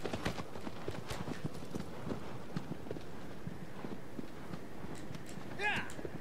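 A horse gallops in the video game Shadow of the Colossus, its hooves drumming a quick, steady clip-clop over an ambient background, with someone speaking over it throughout.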